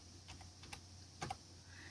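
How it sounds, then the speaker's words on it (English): Keys on a computer keyboard hooked up to a Raspberry Pi 3 are tapped in a sparse, uneven run of soft clicks, with a couple of sharper presses near the end, quiet and close, no voices. "we're going to do a test of the keyboard"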